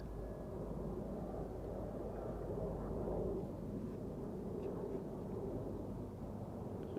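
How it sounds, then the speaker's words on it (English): An Embraer E2 jet airliner takes off at Amsterdam Schiphol, its engines a continuous deep, distant roar that holds steady throughout. "You might also pick up the sound of an E2 Embraer that is taking off"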